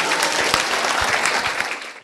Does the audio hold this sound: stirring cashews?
no